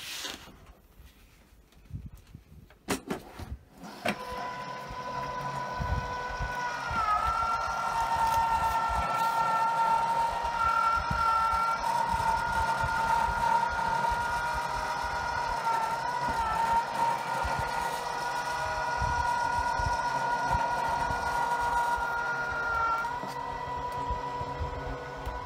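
An AccuQuilt Electric Go electric fabric cutting machine, fed a die and mat, starts after a few handling knocks and then runs with a steady, close motor drone and whine for about twenty seconds.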